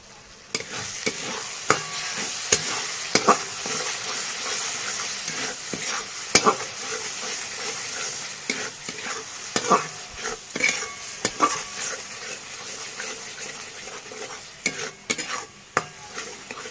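Masala spices for an egg curry are sautéed in a pan, with a continuous loud sizzle and frying hiss broken by repeated sharp scrapes and clacks of a stirring spoon.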